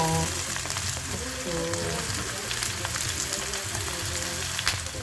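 Chicken liver sautés in a pan with a continuous bright sizzle and frying crackle, plus faint stirring scrapes throughout and no speech.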